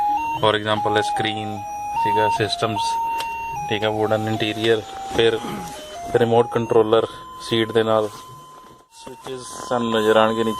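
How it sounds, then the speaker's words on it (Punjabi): A car's seat belt warning tone from a modified Tata Indica, a steady repeating electronic chime pattern sounding insistently throughout, heard under someone talking close by. "ਸਾਇਰਨ ਦੀ ਆਵਾਜ਼ ਤੁਹਾਨੂੰ ਸੁਣ ਰਹੀ ਹੈ, ਇਹ ਸੀਟ ਬੈਲਟ ਲਈ ਹੈ।"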